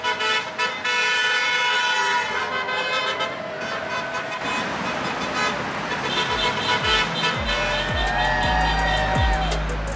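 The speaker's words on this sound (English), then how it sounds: "All the cars down on the freeway that are passing the march down here," Cars on a freeway sounding their horns as they pass a march below, repeated toots and honks over steady traffic noise heard from a distance.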